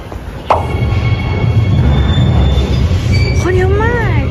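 A metro train rumbles loudly at close range in a Shanghai station, its wheels squealing and rising in pitch as it moves through.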